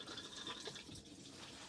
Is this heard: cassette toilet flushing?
yes